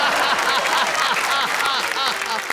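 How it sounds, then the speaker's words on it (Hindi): Audience applause at a Hindi comedy poetry recital, sustained dense clapping from a crowd that fills the whole short stretch at steady loudness. "ऐसी तालियां बजी तो और जोश आ गया"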